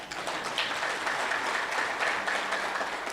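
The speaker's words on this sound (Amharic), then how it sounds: "አጨብጭቡ ለራሳችሁ" Lecture audience clapping for themselves at a talk, a steady, even wash of many hands that fills the whole moment without a break.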